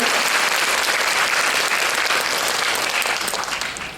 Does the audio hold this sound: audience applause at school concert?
yes